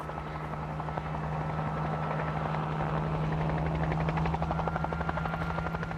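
A helicopter flying low near treetops over herding horses, its rotor thumping in a steady rapid beat over a constant engine drone, loud and sustained throughout.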